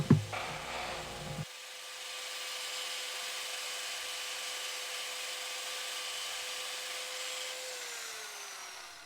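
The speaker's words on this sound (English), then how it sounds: "we're just going to power sand the little nub off of there" A power sander takes the small leftover nub off a wood-turned handle, giving a steady high whine that runs continuously after a short burst of handling noise at the start, then winds down near the end.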